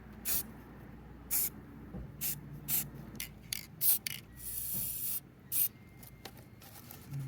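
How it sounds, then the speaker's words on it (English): A spray can laying a coat of paint on a Humvee, giving a series of short hissing bursts with a longer continuous spray near the end, close up and fairly quiet. "All right, I'm gonna give it a little nice coat of paint here."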